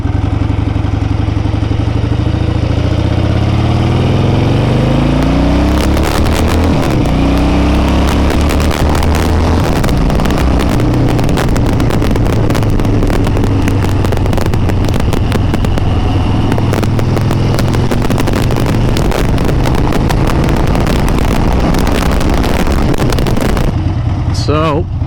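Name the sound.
Harley-Davidson Ironhead motorcycle engine revving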